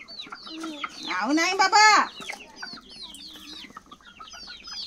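Chickens being fed rice cluck in short bursts around a person who speaks briefly in the middle, their scattered calls continuing on both sides of the voice.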